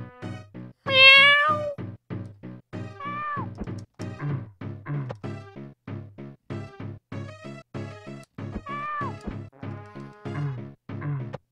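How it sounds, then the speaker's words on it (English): Repeated cat-like meowing cries from the video game Lester The Unlikely, several rising and falling calls over a rhythmic pulsing game soundtrack, fairly loud and clear with no talk. "Just sounds like a cat or something."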